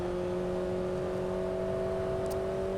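A car driven on the LA Canyons map in the racing game Assetto Corsa, giving a steady, even engine drone with a faint whir underneath, holding constant throughout with no speech.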